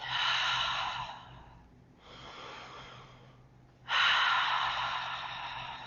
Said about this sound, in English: Breathing in through the nose, out through an open mouth.